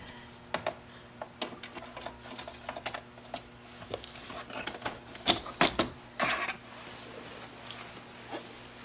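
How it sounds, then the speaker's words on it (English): Sharp mechanical clicks and taps from an 8mm ratchet undoing the two hinge screws beneath a Honda glove box, scattered irregularly and close, with a steady low hum underneath and no talking. "take your 8mm ratchet and undo the two glove box hinge screws located directly underneath the glove box"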